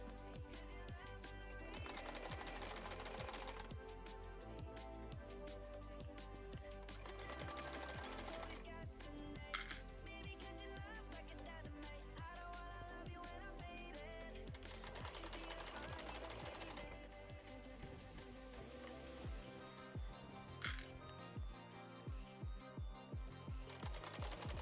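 A sewing machine runs in long steady stitching bursts with pauses between, then shifts to a series of short separate clattering runs near the end, close and fairly loud with no talk.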